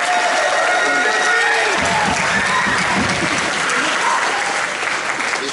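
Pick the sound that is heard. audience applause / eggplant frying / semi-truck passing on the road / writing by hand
audience applause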